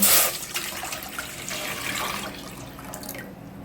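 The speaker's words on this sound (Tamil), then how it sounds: "ஒரு பாத்திரம் வச்சு 1 செம்பு தண்ணி ஊற்றிக்கலாங்க." Water runs and splashes into a cooking pot, a steady broad wash with a louder gush at the start, then easing off near the end.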